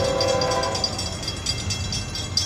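FEC train 218, locomotive 1855, passes loudly and close by at a trackside spot, a steady rumble and rail clatter with a brief horn tone at the start.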